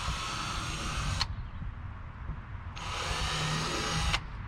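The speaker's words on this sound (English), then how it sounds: "I'm gonna hold it tight and I'm gonna get all the pilot holes drilled." A handheld drill bores pilot holes for a 5-inch deck plate on a Perception Outlaw 11.5 kayak, running in two steady bursts of about a second each, separated by a pause with a low background hum.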